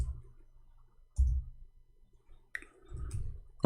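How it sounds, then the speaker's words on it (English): A computer keyboard gives a few soft, scattered clicks in short bursts with quiet gaps between them. "finally our keyboard working fine"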